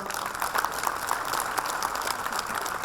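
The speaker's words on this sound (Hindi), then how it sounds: "जोरदार ताली से स्वागत करें आप" An audience at a Kabir music event gives a warm round of applause welcoming a Patna University Sanskrit professor; steady, fairly faint clapping from many hands with no talk over it.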